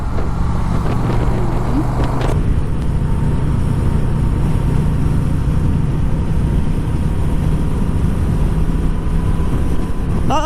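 A 2021 Honda Rebel 1100 DCT motorcycle is ridden in sports mode, its engine drone and road and wind rush continuous and close, with a gear-change shift in tone early on and a few brief voice sounds.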